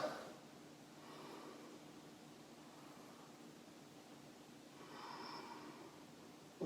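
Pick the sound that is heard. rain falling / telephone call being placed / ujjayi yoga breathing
ujjayi yoga breathing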